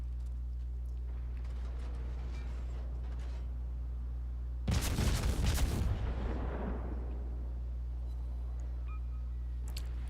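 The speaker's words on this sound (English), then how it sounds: "So I have to put the amazing Japanese guns to work." Japanese naval guns fire in a naval warfare video game, a single heavy boom with a rumbling decay midway through, over a steady low engine drone.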